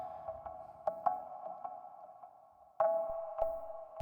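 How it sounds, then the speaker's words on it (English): Soloed stock Ableton dub chord synth stabs for a trip hop track, a steady mid-range chord tone with several short accented stabs, the loudest one near the end, heard alone. "I just grabbed another stock Ableton sound, which was like some dub chords"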